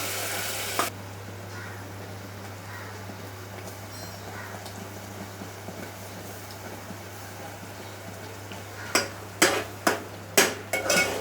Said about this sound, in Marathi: तेलात ना 2-3 मिनिटांसाठी आपण चांगलं ढवळून घेऊया.